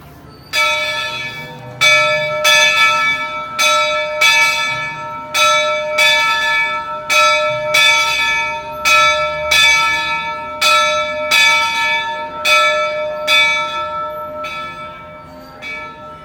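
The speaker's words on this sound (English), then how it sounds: "Here's the bell." The bell of a Walt Disney World Railroad steam locomotive rings loud and close, with a dozen or so evenly spaced clangs, each tone ringing out briefly before the next strike.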